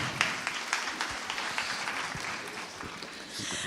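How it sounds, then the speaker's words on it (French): Audience applause in a conference hall, a dense, steady patter of many hands clapping at moderate loudness for a few seconds without talk. "On peut les applaudir."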